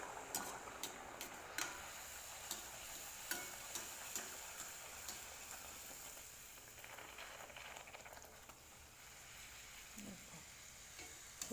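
Luchi, puffed Bengali flatbread, frying in very hot oil: a faint, steady sizzle with periodic sharp ticks and scrapes from turning the bread, close by and with no voices.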